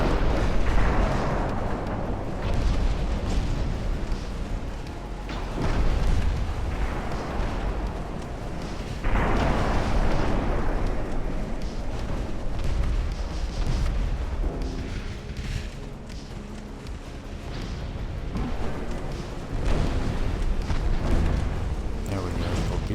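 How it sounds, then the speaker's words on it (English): Heavy battleship turrets firing in Ultimate Admiral: Dreadnoughts, a French campaign naval battle, with repeated deep booming salvos at a high rate of fire that blend into a continuous rumble, with a voice talking over it. "We have so many turrets. Such a high rate of fire."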